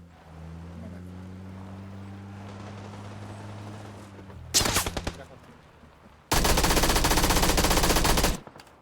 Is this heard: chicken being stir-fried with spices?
no